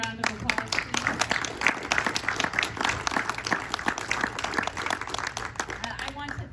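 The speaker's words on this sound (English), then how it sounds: "can we just give all of our candidates a round of applause, please?" An audience at a school district governing board candidate forum breaks into steady, continuous applause, with many hands clapping in a dense patter throughout.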